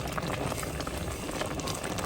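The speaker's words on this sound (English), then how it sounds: "Okay, it's boiling." Jam boiling in a pot for water bath canning, a steady close bubbling and simmering wash with no talk over it.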